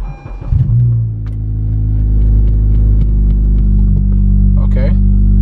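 Car engine running with the hood open, a steady low idle rumble close by, after some clunks and handling noises as it is shifted into gear, with a faint brief squeak near the end.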